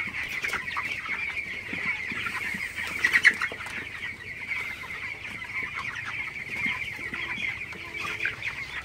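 About 21-day-old broiler chickens cluck in a poultry house at night, many birds together in a dense, continuous chorus, with a few louder calls near the middle and no talk.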